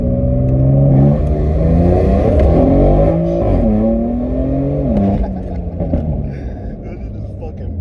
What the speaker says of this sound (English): I'll give you a quick anti-lag sound